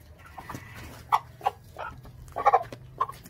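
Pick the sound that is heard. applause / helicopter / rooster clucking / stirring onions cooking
rooster clucking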